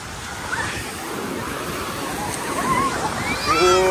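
Ocean surf at Bondi Beach, Australia, a constant loud washing roar of breaking waves, with distant voices and a few high whistling calls rising near the end.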